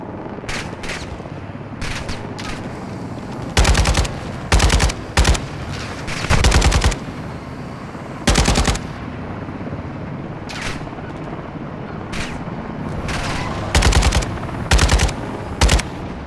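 Bursts of automatic gunfire in Modern Warfare 2 Remastered, loud and close, several rapid volleys separated by short pauses over steady background noise.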